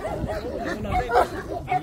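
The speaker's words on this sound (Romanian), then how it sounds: "avem aici un câine foarte gros" A big Romanian shepherd dog on a farm gives a few deep, close barks and yips, mixed with other dogs and people talking nearby.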